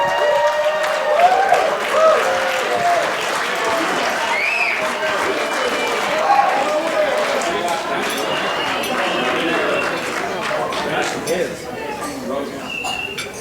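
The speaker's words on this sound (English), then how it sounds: "I'm going to need a round of applause" Wedding guests at a toast applaud the officiant with lively clapping, mixed with cheering and voices throughout, holding steady before thinning near the end.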